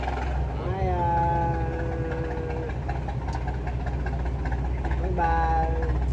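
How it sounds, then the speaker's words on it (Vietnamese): A Vietnamese river fishing boat powered by a 3Z engine runs steadily and loud throughout, a low mid-range drone with rough knocking vibration, while people talk over it. "Chiếc ghe này thì chạy máy 3Z mọi người."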